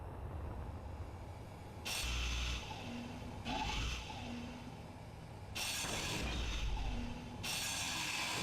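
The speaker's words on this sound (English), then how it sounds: "grind off this rotor and add 2 more pistons to it" A grinder cutting off a rotor in a video game, heard as loud, harsh grinding bursts that start and stop in several spells over a steady mechanical hum.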